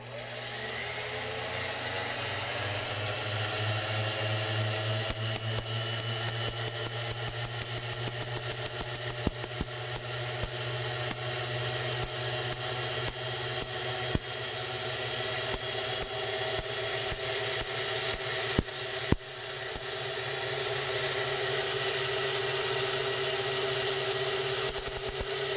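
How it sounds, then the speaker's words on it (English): A Van de Graaff generator's motor runs steadily in a physics lab, a constant mid-pitched whirring hum with scattered sharp crackling snaps from sparks jumping between spheres throughout. "So, we start the motor running."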